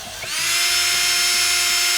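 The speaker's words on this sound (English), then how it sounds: "So, drill, honing steel. Just throw it in here." A power drill spins up and whines steadily with a honing steel chucked in, a loud, close, high-pitched motor tone that holds for about two seconds.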